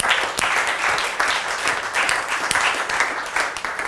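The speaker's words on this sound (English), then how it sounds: "So round of applause for Deepak." A round of applause from the audience at a public relations talk, a lively, fairly close burst of many hands clapping with a few sharper individual claps standing out, no voices.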